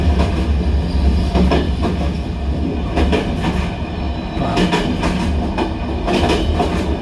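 A train from Sofia to Istanbul rumbles steadily on the rails, heard from inside a cabin, with rhythmic clacking of wheels over joints and a continuous loud low roar.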